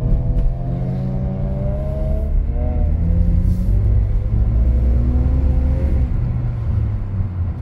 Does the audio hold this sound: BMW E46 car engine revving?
yes